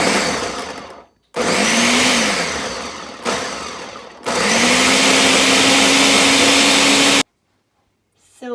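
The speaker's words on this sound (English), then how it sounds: "I just added the fish and the garlic to my blender. I'm gonna blend these up" A blender roars loudly through smoked herring and garlic in bursts, stopping and restarting several times, with the motor pitch shifting as the load changes and brief silences between runs.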